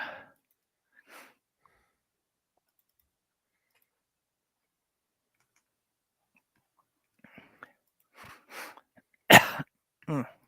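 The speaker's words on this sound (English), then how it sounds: "I'm coughing a lot more than usual today." Long quiet stretches broken by a few scattered coughs, ending with a cluster of sharp, close coughs in quick succession.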